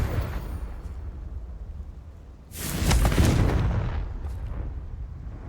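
A Confringo blasting spell explodes in the Hogwarts Legacy video game with a loud, broad burst that swells and rumbles for about a second before tailing off into a softer blast.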